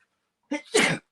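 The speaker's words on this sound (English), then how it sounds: "every time I come downstairs, it seems like I sneeze" A single close, loud sneeze, a quick sharp intake followed by an explosive burst, after a moment of silence.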